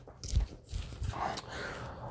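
A dog moves about close by, giving soft panting and low whimpering sounds with a few thumps of paws or body on the floor, faint and without talk.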